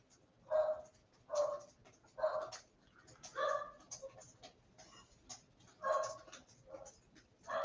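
A dog barks in short bursts, about seven or eight evenly spaced woofs at moderate distance, standing out alone with no talking over them.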